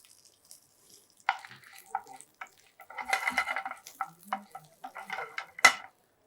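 Urad dal and dried red chillies sizzle in a little oil for a traditional tempering, with light crackles and scattered spoon-and-pan clinks building in the middle and a sharp clatter near the end, close and fairly quiet.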